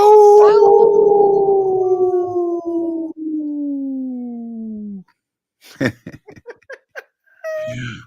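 Several people imitating wolf howls together, long sliding voiced howls that fall slowly in pitch over several seconds, followed by short laughter and talk.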